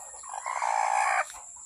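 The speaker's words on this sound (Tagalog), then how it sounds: "May manok din." A single short, faint chicken call from a backyard vegetable garden, lasting under a second against a quiet background.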